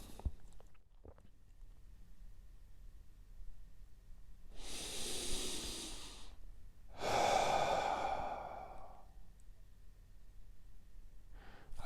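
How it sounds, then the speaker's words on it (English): A person breathes deeply and slowly in and out through the mouth in a calm meditative setting. There are two long, close breaths, each lasting a couple of seconds, with quiet pauses between them. "and breathe out through my mouth."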